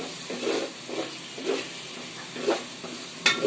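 Spice paste sautéing in a pan for a fish dish, a soft steady sizzle with several stirring swells at a regular pace and a sharp scrape near the end, fairly quiet and without speech.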